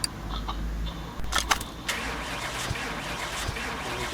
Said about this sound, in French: le moteur démarre pas.